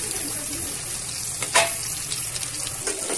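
Green chillies and onions hiss in hot tadka oil, a steady, close, loud sizzle with brief crackling flares and no voices.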